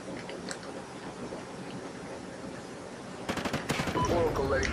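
Rapid bursts of automatic gunfire from the video game Call of Duty Ghosts erupt late in the clip after a stretch of low background noise, fairly loud, with no speech.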